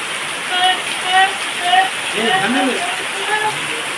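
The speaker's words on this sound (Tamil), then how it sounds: "இப்படி வருது சாரல்" Heavy monsoon rain in Arakkonam drives wind-blown spray in a dense, steady hiss close by, while people talk over it throughout.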